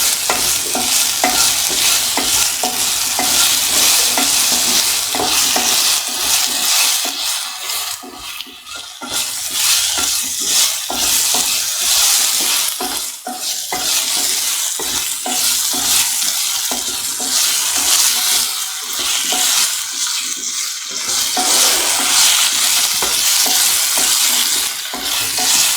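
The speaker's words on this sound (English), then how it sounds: "Saute mixed potato with the rest ingredients." Potato and eggplant stir fry sautéing in a pan, a steady loud sizzle with repeated scraping stirs that dip briefly in places and keep going without talk for the whole stretch.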